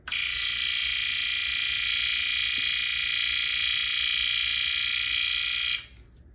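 A steady, shrill electronic tone from a Snap Circuits SC-750 toy kit's whistle chip drones continuously at one pitch for several seconds, then stops abruptly, leaving faint background hiss.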